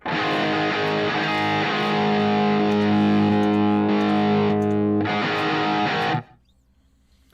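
Electric guitar played through a modeler in snapshot mode, heavily distorted sustained chords ringing loud and continuous with brief changes in tone as snapshots switch and no dropout, then cut off abruptly into near silence at the end.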